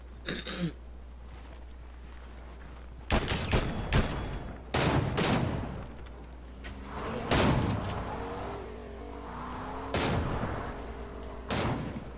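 Gunfire in the video game Fortnite: sharp, loud shots and short volleys crack out irregularly over a low steady hum, with a few separated bangs toward the end.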